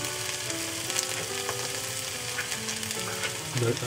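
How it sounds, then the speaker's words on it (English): Tomato paste sizzles as it is added to ginger and garlic frying in a pan for Mughlai chicken changezi, a steady close hiss with a sharper burst of crackling near the end. "Now I'll add the tomato paste."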